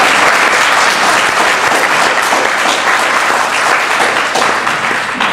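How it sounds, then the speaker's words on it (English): An audience at a convention breaks into sustained, loud applause, dense clapping that fills the room evenly throughout. "warm another round of applause for Amy and the team here"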